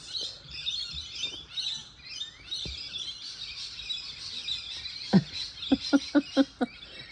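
Early-morning rainbow lorikeets chatter with high, busy calls from several birds a little way off, ending in a run of sharp, evenly spaced chirps close by.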